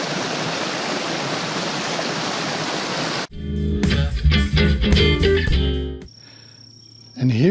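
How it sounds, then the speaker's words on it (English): Spring water flows in a glen with a steady, dense rushing hiss for about three seconds. The sound then cuts abruptly to unrelated, more varied sounds. "Being in this glen with this gorgeous spring"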